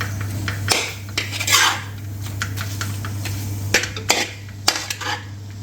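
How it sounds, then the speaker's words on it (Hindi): Tawa chicken with fresh coriander being stir-fried in a pan, heard as repeated metal scrapes and clinks of a utensil against the pan over a steady low hum, with irregular louder strokes. "इसको अच्छी तरह भूनूंगा मैं।"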